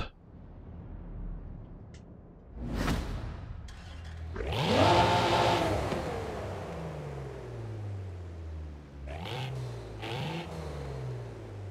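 A 2022 Cadillac CT4-V Blackwing engine in Forza Horizon 5 cranks, catches and revs up sharply, then settles into a steady idle with a couple of brief throttle blips.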